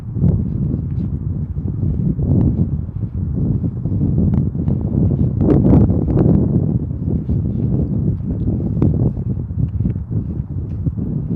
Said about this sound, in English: Because it is a little windy out here.